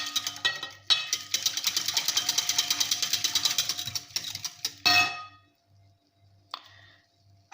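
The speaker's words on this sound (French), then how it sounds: "Je mélange bien." An egg and oil are beaten in a bowl for crêpe batter, giving a fast, even run of clicking taps against the bowl that stops abruptly, followed by a few scattered knocks in near silence.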